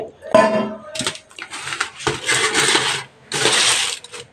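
A cake tin for an eggless orange fruit cake is turned over and handled, giving several separate metallic clanks and scraping rattles close by, with short quiet gaps between them.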